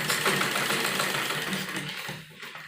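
Sewing machine running steadily while stitching a suit lining, a close, continuous whirring buzz that eases off slightly near the end.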